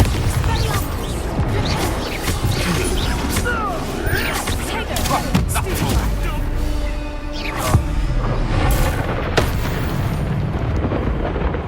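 A Bombarda spell explodes in Hogwarts Legacy, delivering heavy booming blasts over a dense, constant wash of battle effects, with a voice speaking partway through.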